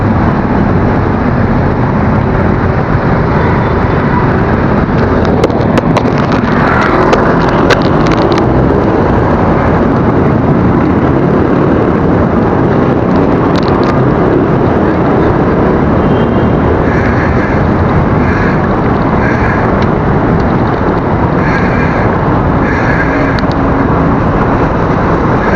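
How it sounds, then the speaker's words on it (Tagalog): Heavy Sunday road traffic, a loud continuous roar of engines and tyres from passing cars and buses, close and unbroken for the whole stretch, with no voices. "Traffic."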